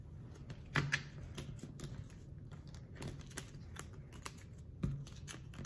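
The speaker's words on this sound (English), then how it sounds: "Some of these cards are like super slippery, so it's like hard grasping them." Slippery tarot cards handled and shuffled in quiet, faint crisp flicks and soft slaps arriving in scattered bursts, with a couple of sharper snaps standing out.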